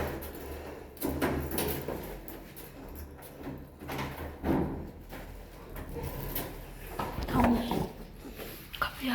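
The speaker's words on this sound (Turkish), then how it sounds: "Geldim ben kapıyı açayım bir dakika." An apartment door on the eighth floor of a building without an elevator is unlatched and pulled open in a series of clunks and rattles, with shuffling and movement close by.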